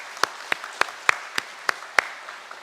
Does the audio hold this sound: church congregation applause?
yes